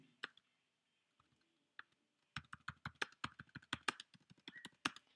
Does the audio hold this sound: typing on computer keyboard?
yes